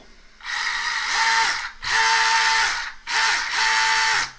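A Tamiya DB-01 Durga RC car's small electric cooling fan and motor whir up in three separate bursts, each a close, high-pitched mechanical whine lasting about a second with brief silences between.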